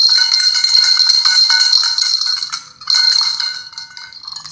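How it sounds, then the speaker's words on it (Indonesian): A homemade bell made from a recycled tin can rings out loud and bright, its metallic tone ringing for a couple of seconds, fading briefly, then struck again and ringing on. "kalengnya sudah siap dimainkan loncengnya."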